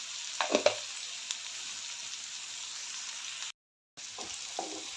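Chopped onion for poha sizzles steadily in a pan with a pinch of salt, a soft continuous hiss broken by a few spoon scrapes and a brief cut to silence.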